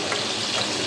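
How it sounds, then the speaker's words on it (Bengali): Capsicum pieces sizzle steadily in hot oil in a pan, a dense, even frying hiss lasting under a second with no talk. "ক্যাপসিকামগুলো আমি যতটা চাইছি ঠিক ততটাই ভাজা হয়ে যায়।"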